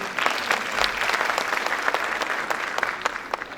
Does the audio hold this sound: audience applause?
yes